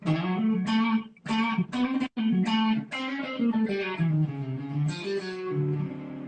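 An electric guitar with a slightly overdriven tone plays a quick, winding diminished run of single notes over a blues, close and clear, ending on a held note.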